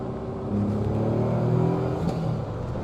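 A Caterham 170R driven on an evening outing, its small engine humming steadily with a low, even drone that rises gently in pitch as it pulls, heard from close by with no talk.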